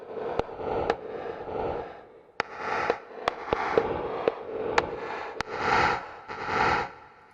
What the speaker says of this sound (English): Let's do hollow sticks reverse.